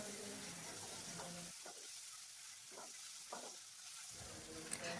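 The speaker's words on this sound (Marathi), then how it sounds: "तेलामध्ये छान मटकी फ्राय झाली की खूप छान लागते" Moth beans frying in oil in a pan for ghol bhaji, with a soft steady sizzle and repeated bursts of spoon stirring and scraping, faint and close, alone with no talk.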